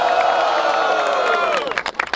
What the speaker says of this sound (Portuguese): façam muito barulho pra quem gostou das rimas de Big Mike!